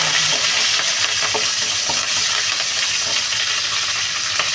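Garlic, dried and green chillies and onions fry in hot oil in a pan, a loud, dense, continuous sizzle heard close up, with faint stirring taps underneath and no speech.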